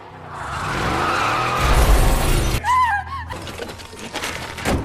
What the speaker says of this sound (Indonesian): sebuah mobil melaju kencang dan berhenti mendadak di dekat gedung tak jauh dari lokasi Smith berada